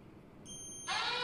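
A steady high-pitched electronic beep starts partway through, then a louder harsh buzzing water-level sensor alarm takes over, close and continuous, triggered when water falls below 20 cm.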